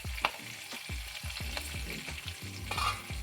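Sliced capsicum frying in hot oil over a high flame, a constant close sizzle broken by a quick series of knocking, scraping stirs in the pan, no speech.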